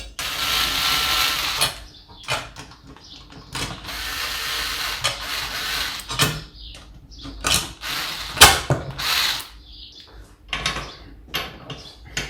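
A homemade puller being tightened to split the crankcases of a Derbi Senda engine during a crankshaft bearing change, giving irregular close ratcheting clicks and metallic turns separated by short pauses.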